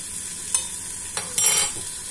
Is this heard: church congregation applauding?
no